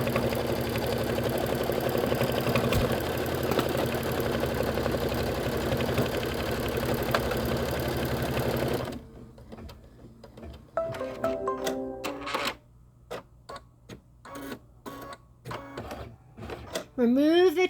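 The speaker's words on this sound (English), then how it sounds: "let's go ahead and stitch the present placement line" A home embroidery machine stitching a placement line for a Kimberbell Cup of Cheer present design, a steady mechanical whir for the first half before giving way to intermittent clicks and short bursts of stitching.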